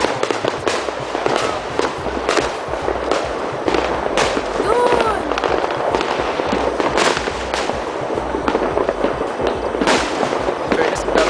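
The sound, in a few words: fireworks exploding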